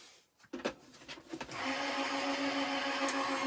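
An electric craft die-cutting machine rolls a paper die through its rollers after a few handling clicks, giving a steady close mechanical whirr with a low motor hum that continues alone to the end.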